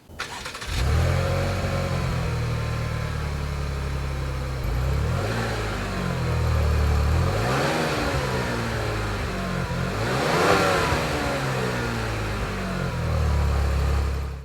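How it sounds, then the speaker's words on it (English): A 2024 Cadillac XT6 crossover starts with a quick crank and catches into a steady idle, then revs up and settles back several times, close and loud with no talking. "Now, let's start up the XT6 and hear how it sounds."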